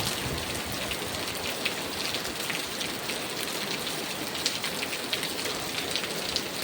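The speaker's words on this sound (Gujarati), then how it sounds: "ફૂલ વરસાદ." Heavy rain pours steadily, a dense, even hiss of drops drumming on surfaces with no pauses throughout.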